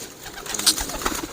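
Pigeons of one bloodline coo close by in soft, throaty bursts, with a few brief chirps over a murmuring background.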